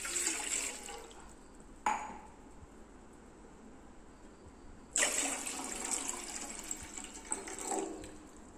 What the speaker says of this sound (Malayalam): രണ്ട് കപ്പ് വെള്ളമാണ് ഒഴിച്ചു കൊടുക്കുന്നത്